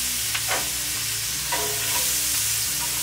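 Celery and carrots fry and sizzle in a pot for an Irish-style ossobuco, with a steady crackling hiss, a few stirring scrapes and a low repeating background tone, no voices.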